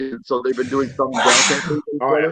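A single sharp sneeze bursts out in the middle of ongoing conversation, loud and close, with people talking right before and after it.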